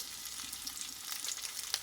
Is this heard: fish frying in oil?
yes